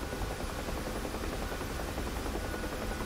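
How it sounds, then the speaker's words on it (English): Huey helicopter flying over the Mariana Islands in the DCS flight simulator, a dense continuous rotor and turbine roar heard from the cockpit, steady and loud throughout with no talk. "Love this chopper."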